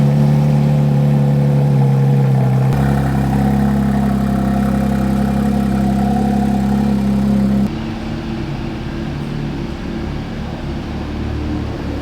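A straight-piped Porsche 992 GT3 RS engine idles loudly and steadily up close in the early morning, its deep droning tone holding for several seconds before dropping to a quieter, lower idle.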